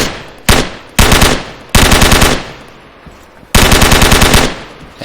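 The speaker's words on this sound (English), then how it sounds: "So just listen to the gun." A Thompson submachine gun in the Arma 3 IFA3WarMod game fires several bursts of automatic fire, from short rapid bursts to longer sustained strings, loud and close with brief pauses between them.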